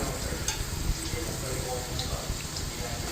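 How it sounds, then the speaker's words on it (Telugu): Onions, dried and green chilies, cumin, mint, prawns and chicken fry in a pot for a chicken-prawn pulao, a loud continuous sizzle with stirring scrapes close by, while someone talks over it. "మనం కొంచెం వేపుకోవాలా ఉల్లిపాయలు ఎండుమిర్చి పచ్చిమిర్చి"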